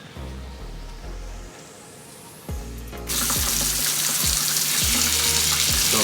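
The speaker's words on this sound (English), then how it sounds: "So here I'm running some water" Tap water running through a Clear2o water filter into a sink, starting as a thinner trickle with a few clunks and then opening into a steady, loud, full-bodied gush.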